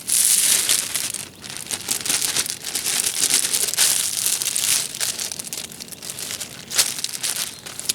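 A plastic food wrapper is stuffed into a Ziploc trash baggie at a campsite in bear country, with continuous close crinkling and crushing that swells and fades in irregular bursts.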